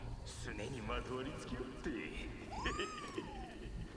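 In the video game Nioh 2, a cat gives a drawn-out, rising-then-falling meow near the end, mixed with game sounds and a person talking throughout.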